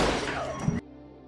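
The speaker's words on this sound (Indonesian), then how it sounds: "Tak diduga, Miguel melepaskan tembakan untuk membunuh Naranjo." A gunshot goes off in a dramatic crime film scene about a drug-trafficking story, a single sharp crack that cuts off loud background music and sound, followed by a quieter tail.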